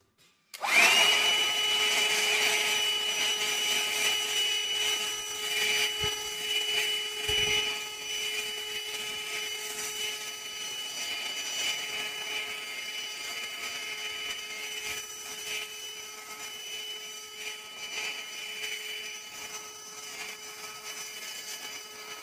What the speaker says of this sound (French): Il aspire bien quand même les poussières.